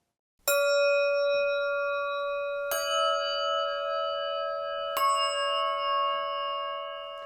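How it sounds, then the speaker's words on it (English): Three separate strikes on Meinl Sonic Energy Zen bells, each a bright metallic ring with clear overtones that sustains and overlaps the next, about two seconds apart, close and resonant. "The Zen bells"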